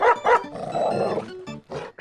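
A pug barks in GTA 5, giving several short, loud, close barks and yips with a brief growling stretch between them.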